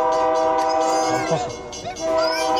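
A train rumbles close by with a loud, sustained multi-tone horn blaring over the noise, briefly dipping before sounding again.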